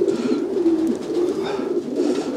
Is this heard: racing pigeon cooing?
yes